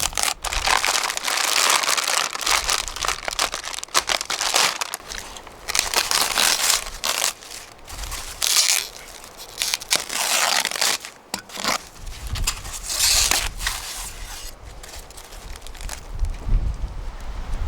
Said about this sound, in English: I think it's going to be easier to cut it with a knife.